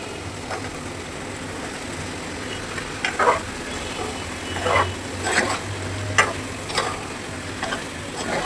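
Eggs frying in hot spiced oil in a pan, a steady close sizzle with crackles and sharper spits that pop up repeatedly through the second half.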